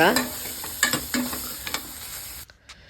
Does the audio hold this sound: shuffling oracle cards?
no